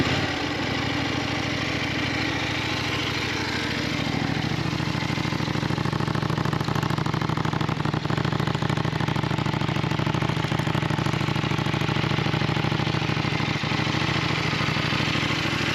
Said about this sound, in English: Accompanied by the sound of the optional Remus exhaust, this gives the bike a really nice flavor.